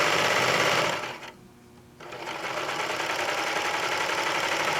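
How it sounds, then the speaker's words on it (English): Serger running close and loud while stitching the edge of a blanket, a steady rapid mechanical whir that dips briefly before resuming at full speed. "start to sew."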